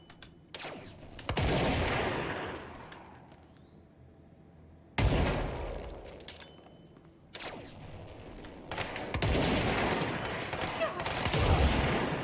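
Gunfire in the video game Control comes in bursts of rapid shots, loud and close, separated by brief lulls with faint mechanical clicks.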